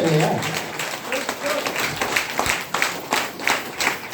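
An audience at a DXN health training program in Bhagwanpur breaks into applause, a burst of many hands clapping in quick uneven patters, with a voice speaking near the start.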